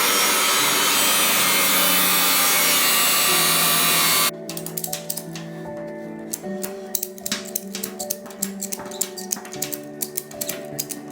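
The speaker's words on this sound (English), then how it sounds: "we are going to cut our fenders down" The rear fenders of a tractor chassis are cut down, starting with a loud, steady high-pitched cutting roar for about four seconds, then stopping and giving way to a series of sharp, irregular clicks and taps at close range.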